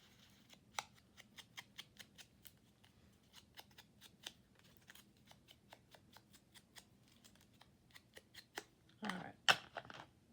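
Scissors snip through decoration material in a steady series of crisp, close cuts, each a short sharp click, ending with a louder rustling scrape of the material near the end; a faint hum sits underneath.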